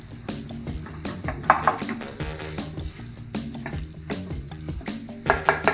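Butter and oil heating in a pan for a Christmas meal, a bubbling sizzle with irregular pops and clicks over a low hum, moderately loud and steady, with no voices.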